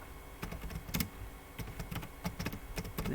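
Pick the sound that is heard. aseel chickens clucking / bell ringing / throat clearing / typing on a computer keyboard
typing on a computer keyboard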